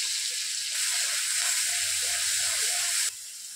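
Onion paste frying in hot oil for a hingi fish curry, a steady loud close sizzle and hiss that swells when the paste goes in and drops back near the end.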